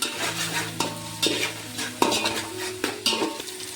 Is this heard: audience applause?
no